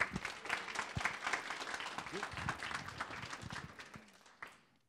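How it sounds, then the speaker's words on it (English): An audience at a tribal archaeology talk applauds to welcome a speaker, a dense spread of clapping with some voices mixed in, tapering off near the end. "Please give a round of applause for Stephen."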